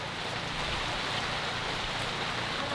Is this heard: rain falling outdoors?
yes